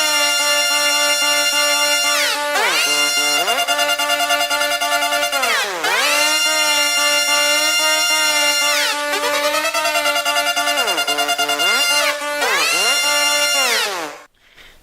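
Synth melody and counter melody built in FL Studio for a Google ad remake, playing as bright, buzzy sustained tones with gliding pitch bends in repeating phrases, loud and continuous until a quick fade at the end.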